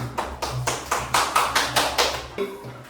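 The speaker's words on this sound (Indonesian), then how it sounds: "beri tepuk tangan untuk Yasmin" A classroom group claps for a student in a short burst of roughly ten quick, even claps, close and fairly loud, with no talking over it.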